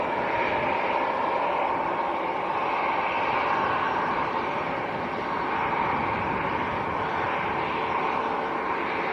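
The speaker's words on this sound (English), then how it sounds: "Cathay Pacific just taxiing in." Cathay Pacific airliner taxiing in at Manchester airport, a steady broadband jet engine roar with a constant hiss, heard from a distance without pause.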